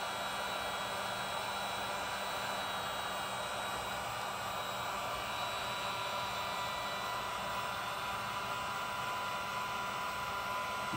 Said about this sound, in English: So we need to use the heat gun to heat it up.